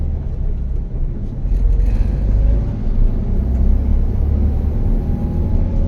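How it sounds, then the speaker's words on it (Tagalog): A car in first gear crawling over a concrete speed bump: a loud, steady low engine rumble from inside the cabin, rising slightly as it passes over, with no talk. "So nag first gear ako."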